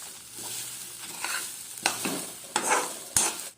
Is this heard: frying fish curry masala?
yes